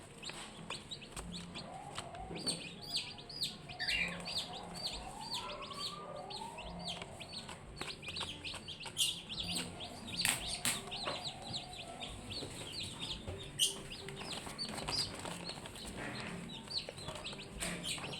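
Day-old 5K Sweater gamefowl chicks chirp and peep steadily throughout, a dense run of high, overlapping calls at close range with no talking.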